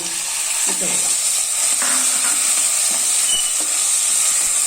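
Tomatoes sautéing with masala in hot oil over a raised flame for rasam give off a loud, constant sizzle and hiss, with a few soft stirring scrapes and no talking.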